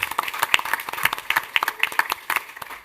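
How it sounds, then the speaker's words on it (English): A panel event audience applauds in a loose, uneven burst of individual hand claps, fairly close and distinct, rippling along without any talking over it. "Please join me in applauding them"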